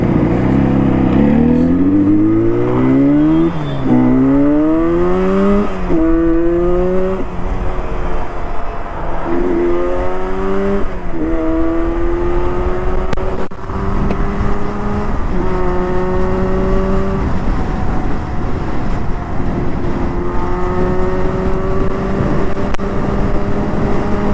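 A Yamaha RD 350 two-stroke motorcycle revs hard and accelerates through repeated gear changes, its rising engine pitch climbing, dropping and climbing again, loud and close over a constant rushing roar.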